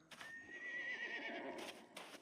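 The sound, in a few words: horse neighing in the video game SCUM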